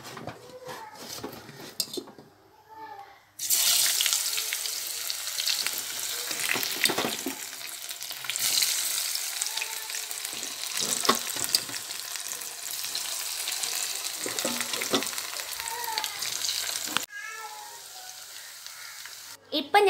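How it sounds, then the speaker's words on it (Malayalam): Cauliflower pieces deep frying in hot oil, Thattukada style, a loud continuous sizzle with clinks of a utensil against the pan, briefly quieter at the start and near the end. "ഇനി ബാക്കിയുള്ളതും കൂടെ നമുക്ക് പൊരിച്ചെടുക്കാം."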